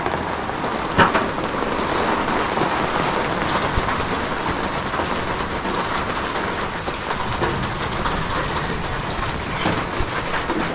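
Heavy rain pours steadily during a rainy Christmas, a loud, dense hiss of drops drumming on surfaces with no pauses and no voices.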